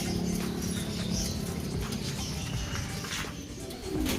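Racing pigeons coo in a breeder loft, a dense chorus of soft, overlapping calls running continuously and fairly close, with occasional shuffles and wing movements underneath.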